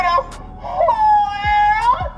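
A car novelty sonic horn fitted to a Nissan Pulsar SSS lets out a loud, warbling, siren-like tone that rises, holds and falls, with a short burst before the main sustained note.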